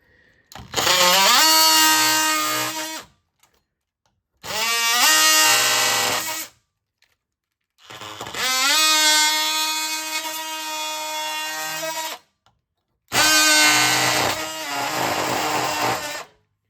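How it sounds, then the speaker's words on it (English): An oscillating multi-tool blade cuts outlet holes in pegboard, four loud, buzzing bursts of a few seconds each with a strong whining pitch that shifts as the blade bites, separated by brief pauses. "Here I'm cutting out a couple outlet holes where I can recess some electrical plugs behind this pegboard."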